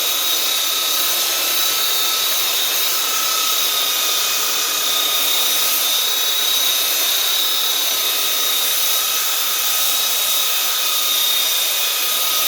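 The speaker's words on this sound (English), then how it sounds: "like the 40 grit belt sander in there" A 40-grit belt sander runs continuously on a large hardwood cross section, with a steady high whine and hissing grind, loud and close, no pauses or voices.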